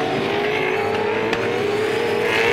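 V8 Supercars from the 2011 International Supercars Tasmania Challenge race around a hairpin, engines roaring loud and steady with rising revs as the cars power through the corner.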